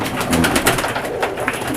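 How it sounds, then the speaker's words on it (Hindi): Pigeons coo close by, among them a black Saharanpuri cross, low throaty calls that pulse and overlap in a continuous murmur, with no talking. "ये काला कबूतर कौन सा है ऊपर?"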